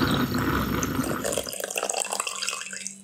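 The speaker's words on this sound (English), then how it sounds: "Pour me a cup of coffee" Coffee poured into a cup, a steady close liquid splash for about a second and a half that thins into trickling and dripping, then fades out.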